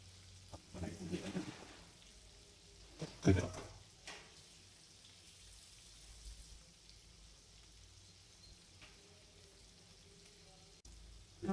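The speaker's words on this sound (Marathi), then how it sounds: "या साईडून मस्त कडक असे फ्राय करायचे" Fish frying crisp in a pan, Marathi-style fried fish, with a soft continuous sizzle and sparse crackles plus a few louder clatters early on, fairly faint overall.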